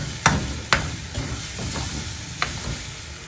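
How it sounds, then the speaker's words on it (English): Garlic cooking in a pan for crispy fish, with a steady close sizzle and a few sharp stirring clatters from a utensil scraping the pan, no voices. "Now let the garlic cook. So here, don't let it become brown and don't let it burn."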